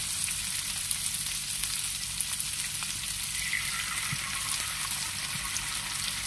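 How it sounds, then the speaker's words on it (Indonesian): Long beans and sausage stir-fry in a hot pan with oyster sauce, a constant loud close sizzle that hisses evenly throughout with faint clicks of the utensil and no speech. "Kita masukkan sos tiram ya."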